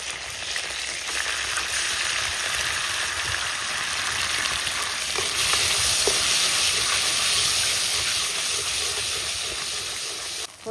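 Spice paste sizzles loudly in a hot wok for coconut prawns cooked village style, a steady dense frying hiss that continues unbroken throughout, close and with no talking.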